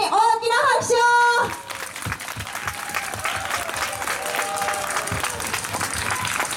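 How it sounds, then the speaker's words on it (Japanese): A large outdoor crowd at a YOSAKOI dance festival breaks into sustained applause for the dancers and twenty-year-olds. An amplified voice speaks briefly at the start before steady clapping takes over. "改めて踊ってくださった、そして二十歳の皆さんに大きな拍手を。"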